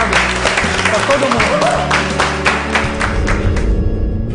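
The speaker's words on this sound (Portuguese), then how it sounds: "Mais uma vez, uma salva de palmas." A school audience applauds at the close of an event, a dense wash of clapping that fills the clip, with low hum and some voices mixed underneath.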